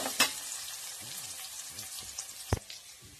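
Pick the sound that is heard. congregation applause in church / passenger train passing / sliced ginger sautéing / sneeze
sliced ginger sautéing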